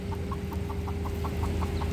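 A hen clucks faintly outdoors in a steady, evenly spaced series of short clucks over a low background hum.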